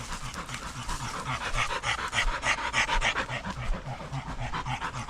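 Dogs pant rapidly and steadily at close range, a rhythmic breathy huffing that continues throughout with a faint whimper, and no one speaks.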